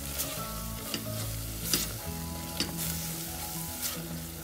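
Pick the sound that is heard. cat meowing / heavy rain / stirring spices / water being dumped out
stirring spices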